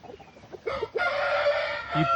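Country roosters on a farm crow loudly and continuously, a dense overlapping chorus of cock-a-doodle-doo calls from several birds nearby, with some clucking at the start.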